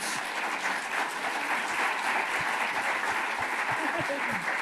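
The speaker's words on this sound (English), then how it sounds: "Let's give them a round of applause." Audience applause at an event about Black Angeleno trailblazer families, a steady, full round of clapping from a crowd that stays loud and even throughout with voices mixed in.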